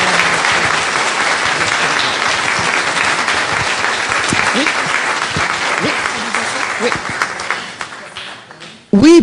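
An audience at a participatory democracy event applauds warmly for a speaker. The clapping is loud and sustained, with scattered voices over it, then tapers off before talking resumes at the end.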